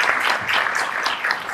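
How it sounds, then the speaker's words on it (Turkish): Audience applause at a live interactive stage show, a dense crowd of clapping hands sustained evenly throughout at a fairly loud, close level. "Bir alkışlayalım, bir heyecanla."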